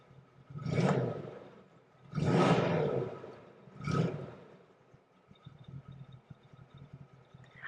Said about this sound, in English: I'll give it a rev for you.